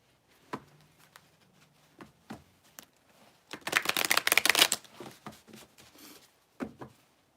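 Tarot cards being shuffled by hand before a Gemini love reading: scattered light card taps and flicks, then a dense riffling burst in the middle, followed by a few more isolated taps, close and fairly quiet with no talk.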